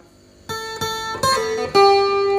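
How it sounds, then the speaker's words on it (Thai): Four clean guitar notes from hammer-ons and pull-offs played together rise in quick succession, each attack distinct and the last one ringing out, with no voice over them. "แฮมเบอร์ออนแล้วก็พูดออฟพร้อมเลยครับ"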